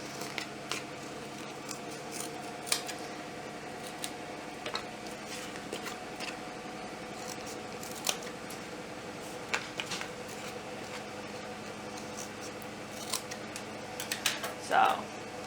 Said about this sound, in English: And then you want to also cut down the tail area.